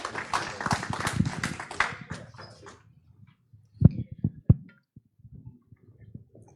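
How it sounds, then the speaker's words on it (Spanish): Audience applause in a hall at an evening Colegio Médico del Perú event on health workforce management, greeting the national dean: a dense burst of clapping that fades over about two and a half seconds, then a few scattered claps. "a quien pido un fuerte aplauso"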